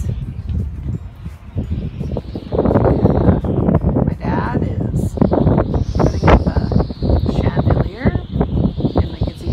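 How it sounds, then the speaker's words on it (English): Steady gusty wind buffets the microphone with a continuous rumbling roar, while a person talks over it. "It's a nice windy day, so I'm letting the wind hit my face and cool me off."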